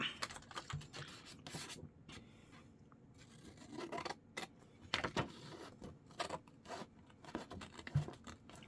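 Chipboard being cut down for a hardback botanical journal cover makes faint, irregular scraping and snipping strokes, close and quiet throughout, with no talking.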